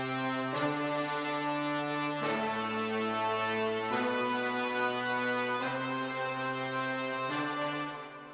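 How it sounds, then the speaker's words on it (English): Brass section layered into an electronic track, sustained stacked harmonic chords changing roughly every one and a half seconds, loud and steady throughout, no talking. "So I just added brass, which in this case sounds like this."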